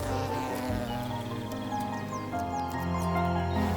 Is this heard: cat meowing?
no